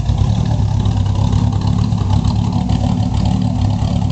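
A frame-off restored 1939 GMC restomod pickup idles through its dual exhaust, a loud, steady, close low rumble with an even pulse and no speech over it.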